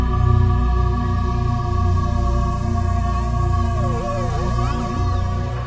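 Data from the BepiColombo spacecraft's Mercury flyby, magnetic field and accelerometer readings turned into sound: a low droning hum with steady layered tones and wavering, gliding whistles near the end, loud and continuous.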